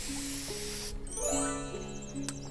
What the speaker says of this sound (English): Spray juice.